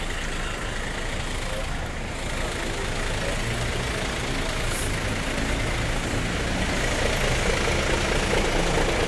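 A Tiger Bus tourist bus idles at Grogol bus terminal, a steady, dense engine rumble with terminal noise around it and a brief hiss near the middle.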